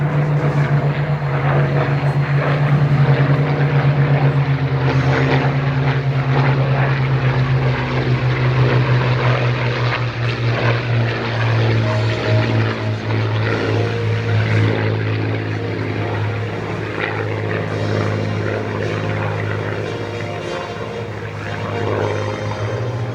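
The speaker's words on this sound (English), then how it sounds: "The Spitfire." A Spitfire fighter flies past at the Weston Park airshow with the Battle of Britain Memorial Flight, its propeller engine a loud, steady drone with a strong low hum that swells and slowly eases as it passes overhead.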